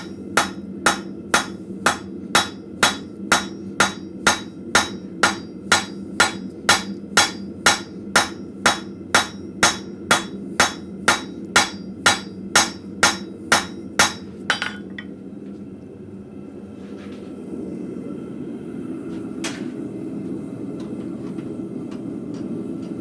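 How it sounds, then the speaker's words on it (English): Steady rhythmic ringing rounding-hammer blows on hot scrap metal at a blacksmith forge, about two per second, loud and close, stopping abruptly, followed by a low roaring hum. "This is actually really weird for me using a rounding hammer and not a cross peen."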